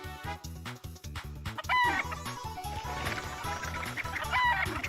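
Chickens cluck and crow in the video game Breath of Fire III, their repeated calls sitting over looping, rhythmic game music.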